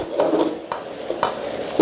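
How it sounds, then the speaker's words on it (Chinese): Beef brisket stir-fried over high heat in a wok with young ginger and green pepper, a steady sizzle broken by repeated sharp clanks of the spatula scraping and tossing against the metal, close and fairly loud. "继续的用大火给它翻炒均匀"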